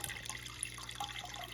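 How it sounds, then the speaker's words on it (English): Water spraying from the tubes of a cutaway toilet water pump, a steady hissing splash with dripping and trickling, continuous and close. "between where the two tubes go in, it's also shooting out water there"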